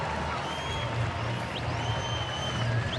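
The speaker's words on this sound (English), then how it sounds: "Good crowd here at the K." A baseball crowd at Kauffman Stadium, home of the Royals, fills the air with a steady, broad roar of murmuring and scattered clapping, dense and unbroken, with no single voice standing out.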